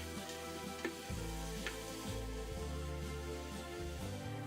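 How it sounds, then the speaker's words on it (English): Shrimp sautéing in olive oil inside an Instant Pot, a steady sizzle with a low mechanical hum underneath and a couple of faint stirring knocks. "Pour olive oil and add the shrimps. Sauté the shrimps and stir them from time to time."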